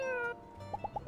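A cat in My Time At Sandrock gives a short, soft meow, followed by a few faint little chirps in a quiet scene.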